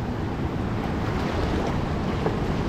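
Sea waves and wind around a small boat used for harvesting sea grapes, a steady broadband wash with gusty microphone buffeting and no voices.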